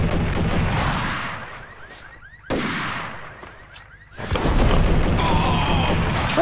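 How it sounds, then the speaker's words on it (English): Loud booming blasts in the Max Payne video game, with a sharp explosive onset near the middle followed by another heavy rumbling burst and sustained debris-like noise. "Hid next to an explosion."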